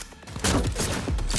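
Gunfire in the Cyberpunk 2077 video game, a dense burst of rapid overlapping shots and blasts filling the short span, loud and close with a busy game soundtrack behind it.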